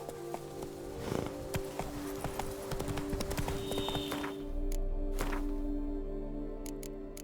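Horse hooves clip-clop in The Witcher 3, a close, rhythmic trot with an occasional whinny, fading into a low steady rumble toward the end, with no talk.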